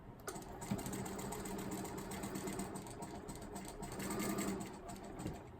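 A sewing machine runs continuously, stitching a quarter-inch seam for quilt piecing, with a fast, steady mechanical hum and rapid needle clatter, close and even throughout with no speech.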